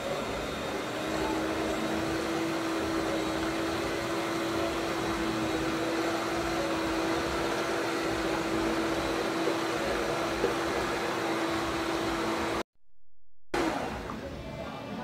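Savory ham and cheese pie batter with milk is beaten by machine, a steady close motorized whir with a constant hum that cuts off abruptly near the end.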